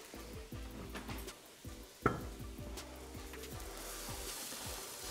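Stir-frying in a wok turned up to maximum heat after oyster sauce goes in, with loud continuous sizzling, rhythmic scraping strokes of the stir and a sharp metallic clank partway through.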